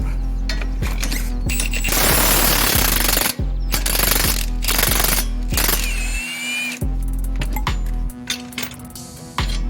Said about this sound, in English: So let's go ahead and remove that bolt.